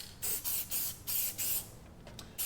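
Dry lubricant sprays onto a Jeep soft top zipper in a series of about six short, close hissing bursts with brief gaps between them.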